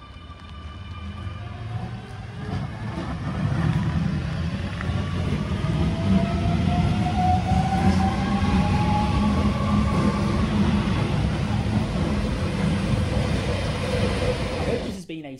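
A London Underground Jubilee line train's traction motors whine as it runs, rising tones gliding upward over a steady loud rumble of wheels and carriage, continuous throughout with no talking.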